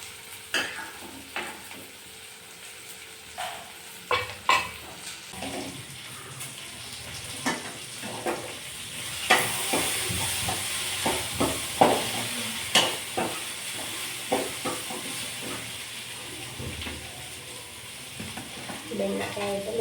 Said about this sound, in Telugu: మొట్టి కడాయిలోనే బెండకాయ వేపుకుంటే జిగురు పోతుంది